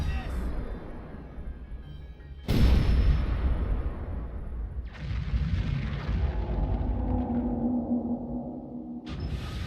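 Cannon fire during the Vah Rudania attack in Breath of the Wild: a few loud, sharp booms, each followed by a long, rumbling blast and decaying roar, spaced a few seconds apart.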